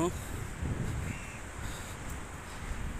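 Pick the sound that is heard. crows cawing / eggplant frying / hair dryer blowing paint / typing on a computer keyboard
crows cawing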